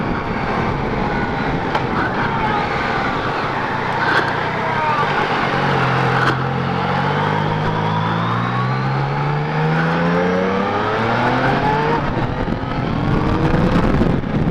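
A Yamaha Niken three-wheeled motorcycle accelerates hard, its engine pitch sweeping upward through several gear changes, loud and close with steady wind rush throughout.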